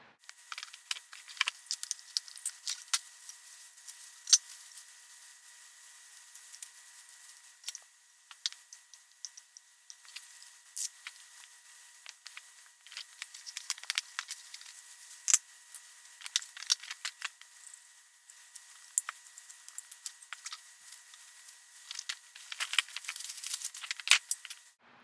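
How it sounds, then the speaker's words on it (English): Patio umbrella base pieces and frame parts being pulled from their packaging, with faint, scattered crinkles, ticks and light rattles coming in irregular bursts close by over a quiet background. "We're going to start by just taking everything out of the packaging, all the base pieces and everything out of the packaging."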